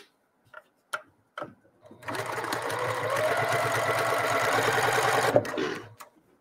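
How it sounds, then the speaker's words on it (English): A sewing machine stitches piped pillow fabric, running in one continuous steady burst of fast mechanical whirring and ticking for several seconds after a few isolated clicks and knocks. "I'm lifting up my presser foot just a little bit, adjusting my fabric, and then continuing to sew just around the corners."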